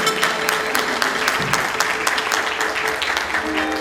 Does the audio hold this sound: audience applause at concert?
yes